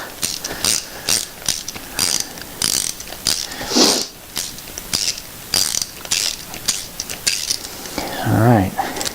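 A ratchet wrench clicks in rapid, steady strokes while a nut is worked off a 13B peripheral port rotary engine, close and loud, with a brief metallic clink near the end and no talk.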